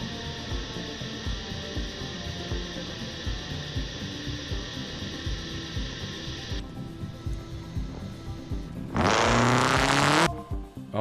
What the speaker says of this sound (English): That car is loud? Is it?